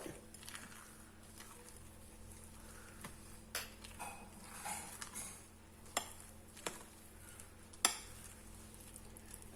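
Thick urad dal bonda batter with a few peppercorns stirred in a bowl, quiet and close, with soft wet churning and occasional sharp clinks of the spoon against the rim.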